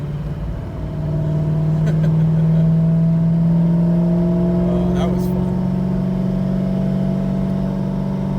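A C5 Corvette's engine drones and rises under acceleration from inside the cabin, a steady mid-pitched hum that swells early and holds, while a voice speaks briefly over it.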